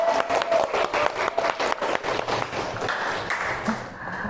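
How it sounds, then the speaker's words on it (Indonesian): Audience applause follows a spoken poetry recitation, a dense wash of clapping from a room full of people that starts loud and thins out over about four seconds, with a few voices murmuring near the end. "Tepuk tangan, teman."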